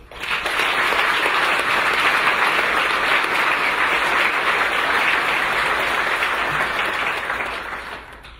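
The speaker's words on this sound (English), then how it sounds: "We applaud you." A State of the City audience applauds a wheelchair challenge participant with loud, sustained clapping from a large crowd, rising quickly, holding evenly for several seconds, then fading near the end.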